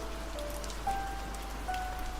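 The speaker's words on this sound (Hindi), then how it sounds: "अभी आधा रास्ता भी नहीं हुआ था कि बारिश और तेज हो गई" Steady rain falls on a surface, an even wash of patter with no voices, the downpour growing heavier during a journey.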